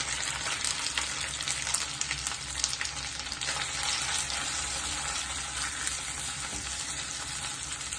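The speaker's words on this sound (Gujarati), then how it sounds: "પછી એની સાથે જે આ માવો છે બંને એ અંદર સાતળી લઈશું." Corn and capsicum mixture sautéing in a pan tempered with mustard seeds and curry leaves, a steady, close, continuous sizzle and crackle of frying with faint stirring, no talk.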